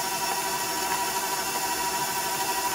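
Electric mixer whirring steadily as it beats soft cheesecake batter in a bowl, a continuous even motor drone at close range with no talking.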